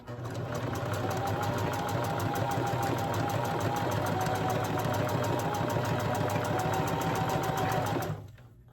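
A sewing machine runs steadily, back stitching a 5/8 inch seam on an American flag quilt top. The motor hums with a rapid, even needle rhythm, close and loud, for about eight seconds before stopping abruptly.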